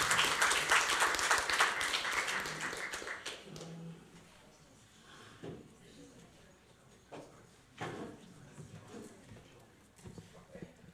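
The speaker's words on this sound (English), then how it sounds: "Please, another round of applause for Paul." An audience at a zoo research conference applauds a presenter, dense clapping loud at first then tapering off within a few seconds as scattered claps and a speaking voice follow.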